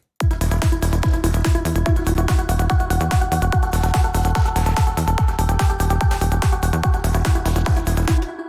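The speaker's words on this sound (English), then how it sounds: "So we can add movement to it by adding some gating effect like this with Envelooper" A rhythmic FM synth loop pounds steadily while a female choir pad is chopped by gating into pulsing rhythmic bursts, giving choppy movement throughout.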